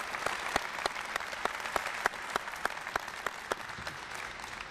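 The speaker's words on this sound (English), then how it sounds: "So if we could give a round of applause to" Sustained audience applause for Major Gonzales, an Air Force Cross recipient, at a Green Hornet exhibit dedication ceremony, with steady dense clapping and a few sharper individual claps standing out throughout.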